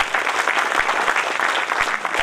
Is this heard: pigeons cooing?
no